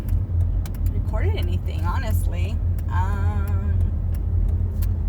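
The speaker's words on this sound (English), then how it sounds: "I'm kind of in traffic" Steady low rumble of a car interior stuck in traffic, continuous and close, with a person talking over it.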